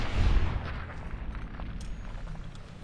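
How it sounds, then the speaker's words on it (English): A gunshot in a video game, firing off as a loud, low booming blast at the start and then rolling into a sustained rumbling echo that slowly fades across the rest of the moment. "I'm so glad I made that shot."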